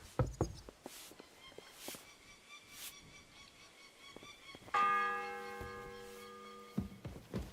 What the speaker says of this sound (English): The 10th bell.